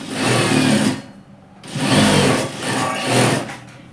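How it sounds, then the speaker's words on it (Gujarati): A sewing machine stitches a half-inch seam on a capri pocket in three close, loud bursts of rapid whirring, separated by short pauses. "પછી થોડું અડધા ઇંચનું દબાણ લઈ સિલાઈ મારી દેવાની."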